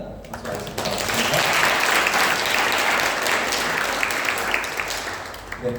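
A church congregation at a Sunday service claps steadily for several seconds, a dense, sustained round of applause that begins abruptly and fades near the end.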